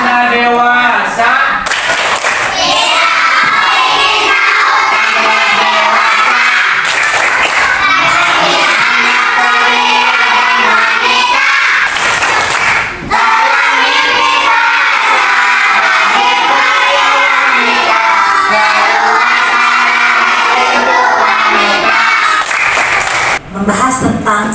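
A class of fourth-grade children chanting loudly in unison with rhythmic clapping bursts at intervals, voices dominating and claps punctuating the chant in a classroom.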